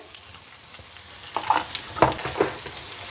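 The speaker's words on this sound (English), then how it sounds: "Keep stirring it on low flame." Granola mixture with poppy seeds and cardamom powder is stirred in a pan over a low flame, giving a few soft scrapes and light sizzling taps close by. No one speaks.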